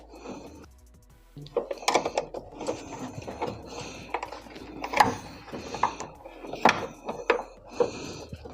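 A tool works loose the nut on a washing machine's drum shock absorber, giving a series of close, irregular metallic clicks and ratcheting scrapes with short pauses between bursts.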